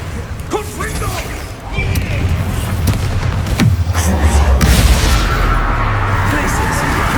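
A Confringo fire spell bursts in the Hogwarts Legacy video game as loud booming blasts with whooshes and crashing debris, while game voices and battle effects continue throughout.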